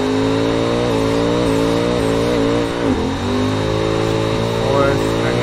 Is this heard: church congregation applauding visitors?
no